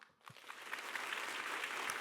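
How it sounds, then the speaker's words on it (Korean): Congregation applause during a church worship service, starting with a few scattered claps and quickly building into a broad, steady round of clapping from a large crowd. "경기 동남지의 목사님들 얼굴이 화면에 비칠 때에 박수 한번 주세요"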